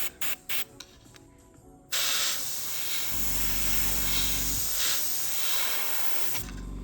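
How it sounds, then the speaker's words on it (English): An aerosol can sprays paint onto a 1978 Tamiya Lotus model car. A few mechanical clicks come first, then a loud, steady hiss runs for several seconds, nearby and without talking. "Right, and now let's get him sprayed."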